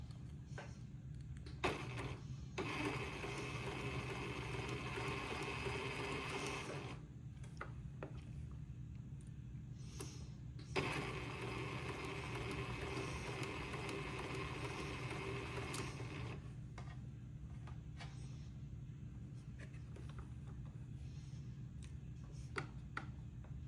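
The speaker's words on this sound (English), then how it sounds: "I'm going to sew my shoulder seam through all three layers." A sewing machine runs a shoulder seam through three layers of baby garment fabric in two long, quiet, steady whirring bursts with brief pauses between them. The sound is faint and close, with light ticks at the starts and no talking.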